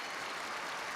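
A large arena crowd applauds figure skater Sean Sawyer at the 2008 Skate Canada exhibition gala, a brief, steady, fairly faint wash of clapping.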